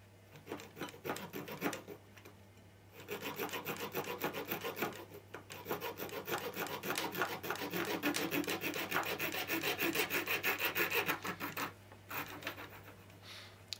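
A multi-tool magic saw cuts through 2.5mm twin and earth electrical cable with a rapid rasping back-and-forth stroke, close and steady for several seconds, with brief pauses and a constant low hum.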